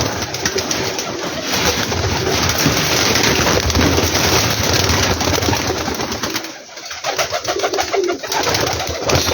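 Teddy pigeons coo steadily and close by in a loft, soft repeated throaty calls layered over a constant hiss, with no talking.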